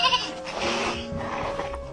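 A goat bleats nearby, a wavering, nasal cry lasting a couple of seconds, heard alone without talk.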